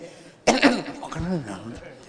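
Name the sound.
cough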